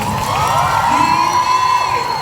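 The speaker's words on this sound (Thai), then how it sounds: "ปรบมือกับสปาร์คอคิลหน่อยได้ไหมฮะทุกคน" An audience at a brand presenter event cheers and shouts for Sparkle, a loud, sustained crowd roar with excited whoops and high voices over a continuous background.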